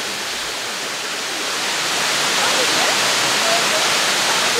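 A waterfall on an island pours down a black rock wall in a steady, dense rush of water that swells slightly louder toward the end, with no other sounds over it.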